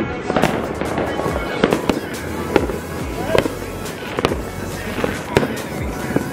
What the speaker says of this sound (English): Fireworks for my birthday?